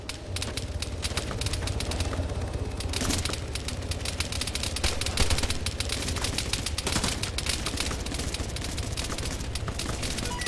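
Dense, continuous gunfire in the video game Arma 3, a steady loud rattle of rapid shots and clatter running throughout without pause.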